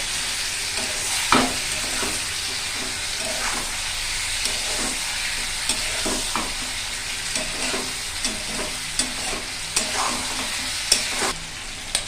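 Chicken being sautéed in a pan for Bengali chicken kosha: a continuous hissing sizzle with frequent spatula scrapes and taps against the pan, close and fairly loud, no voices.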